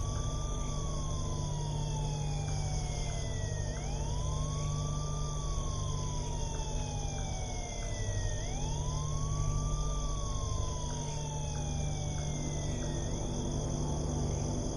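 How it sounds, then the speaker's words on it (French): A police siren sound effect in a spoken legend wails in repeated rising and falling sweeps over a steady, insect-like high drone, continuous and moderately loud with no voice over it. "Un bruit de sirène de police."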